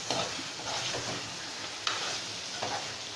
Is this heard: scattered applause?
no